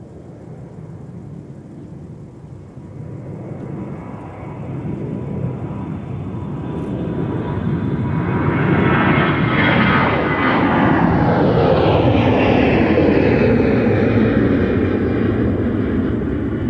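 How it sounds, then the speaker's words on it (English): A jet airliner departing Minneapolis–St. Paul Airport on a flight to Jacksonville, Florida, its engine roar rising steadily from a distant rumble into a loud, sustained broadband wash that fills the clip, with no talk over it. "All right, here's our flight to Jacksonville,"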